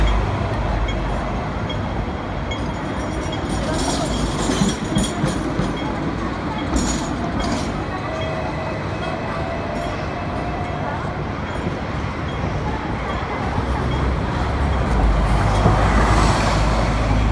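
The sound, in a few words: trams and double-decker buses passing in Central, Hong Kong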